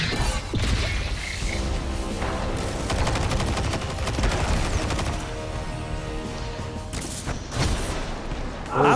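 Rapid, loud gunfire from the Destiny 2 video game, bursts of automatic shots with crashing impacts layered over game effects, continuing for several seconds with brief breaks.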